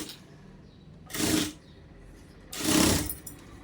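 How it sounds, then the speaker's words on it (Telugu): A sewing machine runs in two short bursts a little over a second apart, stitching piping around the edge of a blouse. Each run is close and loud, with quiet handling sounds between them. "ఇలా చుట్టూరా ఒక స్టిచ్ అయితే వేసేసుకురండి"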